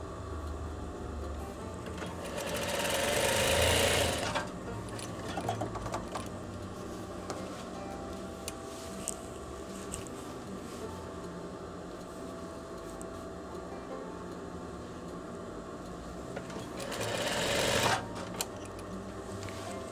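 A sewing machine stitches the seam of a veterinary coverall in two bursts, a longer run early on and a shorter one near the end, with quiet handling between.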